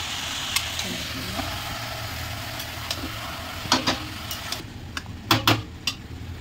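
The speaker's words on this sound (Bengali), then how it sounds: "এই মশলাটা আমি দিয়ে দেবো, নাড়িয়ে নেব" A large 3 kg broiler chicken is stirred with ground spice paste in a pan for chicken kosha. Low sizzling runs throughout, with scattered scraping clicks of the spoon that grow louder and more frequent toward the end.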